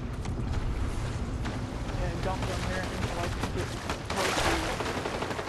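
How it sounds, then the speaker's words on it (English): Rapid bursts of automatic weapon fire crackle in a Fortnite match, sounding somewhat distant and continuous over several seconds with a louder flurry near the end, while a player talks over it. "I hear gunfire this way."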